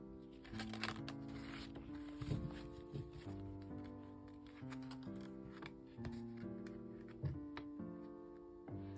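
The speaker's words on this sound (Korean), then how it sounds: "카드 3장을 먼저 뽑아보도록 하겠습니다." Tarot cards being shuffled and drawn, with soft riffling and flicking under steady background music, no voice present.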